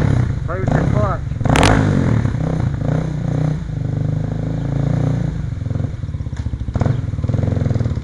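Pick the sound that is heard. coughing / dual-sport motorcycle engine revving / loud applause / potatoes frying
dual-sport motorcycle engine revving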